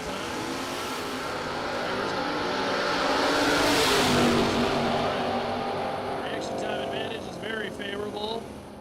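The Catfish Camaro drag car roars down the drag strip, a loud sustained engine wash that swells and fades as it passes, with an announcer talking over it toward the end.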